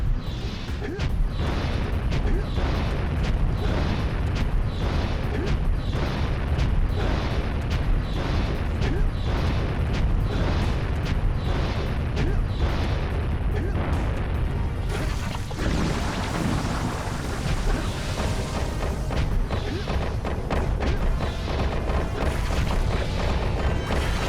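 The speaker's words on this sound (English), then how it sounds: "Bro's shooting boulders like he's frickin' Mega Man." A boss in Jak and Daxter: The Precursor Legacy fires boulders, heard as a loud, continuous run of heavy, rapid booming thuds, with a denser rumbling barrage toward the end.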